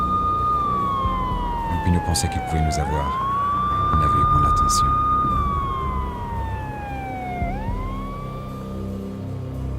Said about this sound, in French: J'entendais le hurlement des sirènes se rapprocher.